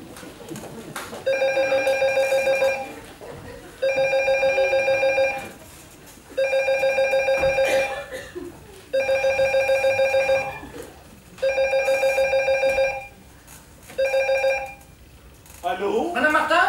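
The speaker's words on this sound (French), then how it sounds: "Allô? Madame Martin?" A telephone rings in six repeated electronic bursts, each about two seconds long with short gaps between them. The ringing is clear and fairly loud, and a faint voice is heard between the rings.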